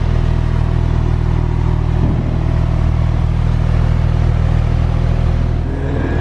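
A BMW M2 idles loud and close with a heavy, lumpy rumble and a throaty engine note that lifts slightly in a short rev, with no speech over it.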